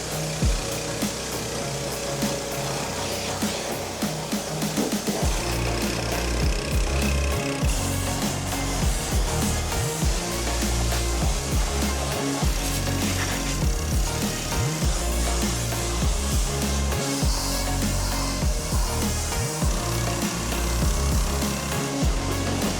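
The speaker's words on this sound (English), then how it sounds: "I'm going to grab the pressure washer, give the old girl a wash" A pressure washer blasts grime off a neglected 1987 Nissan Skyline R31 pulled from a paddock, giving a loud, steady mechanical roar with rhythmic low pulsing throughout and no talking.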